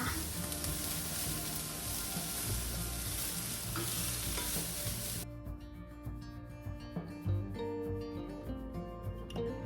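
Broccoli frying in a pan for beef and broccoli, a dense close sizzle with stirring scrapes that suddenly drops to a quieter, thinner crackle with occasional clinks midway, and no talk.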